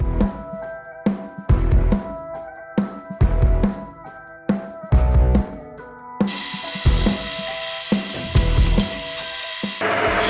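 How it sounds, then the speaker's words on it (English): A long metal piece being centre-drilled on a lathe for custom Harley-Davidson Dyna pannier washers: several grinding, cutting bursts with pauses, then a steady loud whine of the machine running continuously near the end. "we're going to drill the centre of this first, so that's drilled and done as one long piece"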